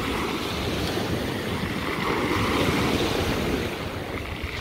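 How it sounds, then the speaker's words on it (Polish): Strong wind blows at sea off the Greek coast, with a fishing boat nearby. It makes a continuous roaring rush of wind and surf with microphone buffeting and no voices. "No wieje, wieje, no."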